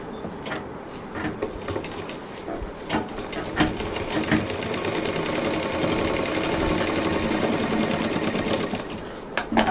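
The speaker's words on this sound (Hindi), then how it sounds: "ये दूसरी तरफ का भी 4 सिलेंगे।" A sewing machine stitches the bottom of a fabric bottle case, giving a steady, close mechanical whirr with rapid needle clatter that runs continuously with little pause.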